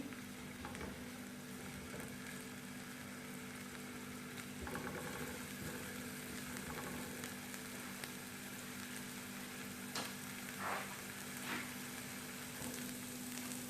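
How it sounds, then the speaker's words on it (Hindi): Mince filling ingredients sauté in a pan over a flame, a continuous moderate sizzle with occasional stirring clicks and a low steady hum underneath. "इसको ऐड करके मैं इसको जरा सा सौटे करूंगी।"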